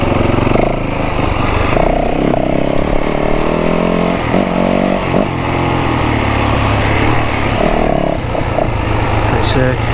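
Dirt bike engine droning loudly and steadily throughout as the rider carves through a berm on a trail, with pitch shifts as the throttle changes and voices talking over it.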